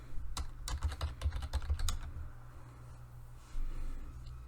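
A quick burst of typing on a computer keyboard, a dozen or so light clicky key taps in a run, then a short gap before a final soft tap, close over a low steady room hum.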